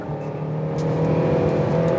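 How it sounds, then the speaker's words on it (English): The engine of a 2026 Hyundai Sonata Hybrid drones steadily as the car accelerates onto a highway, a continuous moderately loud hum with road noise heard from inside the cabin. "yeah, the engine's a little loud, but again, it's fine."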